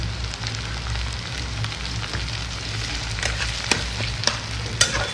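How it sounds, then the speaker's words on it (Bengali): Chopped onions and tomatoes fry steadily in a pan with a continuous sizzle and crackle, a few sharp spatula clacks standing out near the end. "ভালো করে ফ্রাই হবে এখন"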